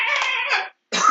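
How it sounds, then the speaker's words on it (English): A single harsh cough, a ragged burst followed by a brief silence and a second sharp hack, close and loud with no talking over it. "And then we hear him cough."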